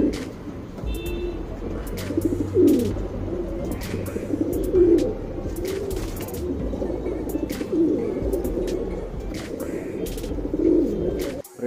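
Tournament pigeons cooing nearby in a repeated, soft, throaty rhythm over a steady low background murmur, with a few faint chirps mixed in.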